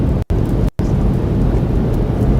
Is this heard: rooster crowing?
no